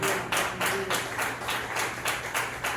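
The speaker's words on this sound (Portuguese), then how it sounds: "Dá uma linda salva de palmas para Jesus" A church congregation claps together in a loud, steady rhythm, with broad bursts of clapping repeating about twice a second throughout.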